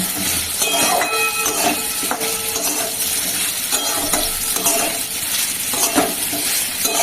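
Fresh curry leaves sizzle in hot oil, a loud, steady hiss and crackle with occasional clinks of a stirring spoon, close up and without talk.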